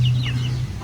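A sick, thin chicken gives a short, low, nasal cluck close by, a single sustained note lasting under a second.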